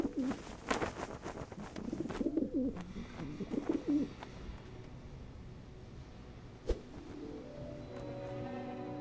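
A black bird in an animated movie coos in a series of soft, rounded calls over the first few seconds, followed by a single sharp tap and then quieter sustained tonal background sound.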